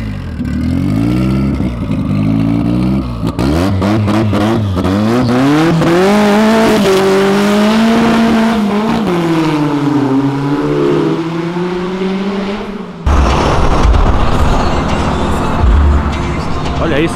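A Fiat Uno leaving a car event revs hard, its engine note climbing and falling in strong harmonic sweeps with tire noise, then a louder broadband roar near the end; loud and close throughout.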